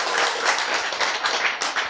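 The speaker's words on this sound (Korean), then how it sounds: "박수!" An audience at a lecture on dementia prevention and cartilage regeneration bursts into dense, steady applause, many hands clapping close together for the whole stretch with no voices over it.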